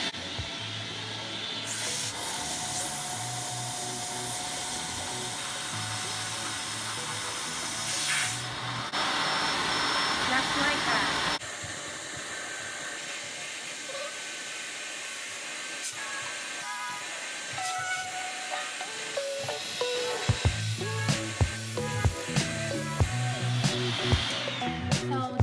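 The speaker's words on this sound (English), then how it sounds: "I'm going to use the vacuum, take that out. And then we're going to use the suction" A household vacuum cleaner sucks the air out of a vacuum storage bag packed with clothes, a steady close whirring drone that shifts in pitch as the bag tightens, ending with clicks and handling noises.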